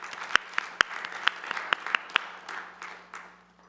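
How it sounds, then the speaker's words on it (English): A city council meeting crowd gives a brief round of applause. A few loud, distinct claps stand out over softer clapping, and the whole thing thins out and fades within a few seconds. "So one more round of applause for the work we have here."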